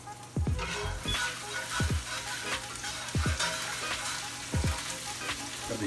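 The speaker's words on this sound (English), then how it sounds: "It's sizzling really nice over here." Steady, loud sizzling of bacon-wrapped meatloaf in a hot pan, with a low thud repeating every second or so beneath the hiss.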